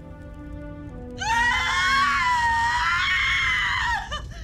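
A girl in a movie lets out a loud, sustained high-pitched scream off camera, rising over quiet tonal music and lasting about three seconds before cutting off.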